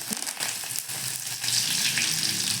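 Oil tempering in a pan with cumin, mustard seeds, garlic and curry leaves, a brief close, loud crackling sizzle with small pops, no voices.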